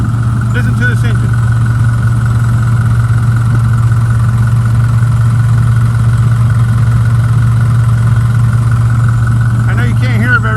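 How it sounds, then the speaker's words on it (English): A 2015 Isuzu Tymco sweeper truck engine runs at a steady idle with a constant low hum, partly covered by the roar of its vacuum, while someone talks over it. "Listen to this engine."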